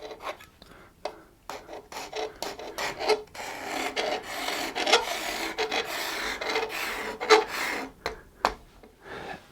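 A steel scraper rasps along a wooden guitar neck being carved, quiet repeated scraping strokes in an irregular rhythm with brief pauses between passes.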